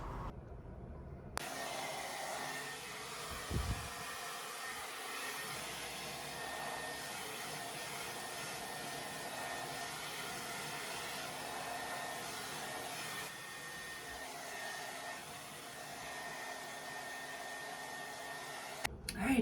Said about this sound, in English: I don't usually blow dry my hair, but today I'm trying to make it look good